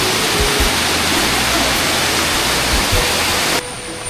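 Ermayi Falls, a waterfall, gives a loud, constant roar of rushing water heard up close, steady throughout, with a slight drop in level near the end.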